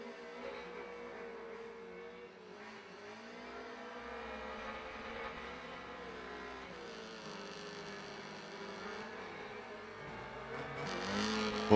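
Race car engines drone steadily through a lap of Wreckfest 2 ranked racing, a continuous mid-level roar with shifting pitch as the cars accelerate and brake, louder revving building toward the end.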